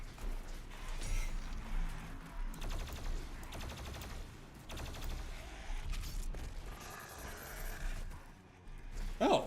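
Gunfire and explosions from the first-person shooter Doom Eternal come in rapid rattling bursts and booms, loud and close, with brief quieter gaps between volleys.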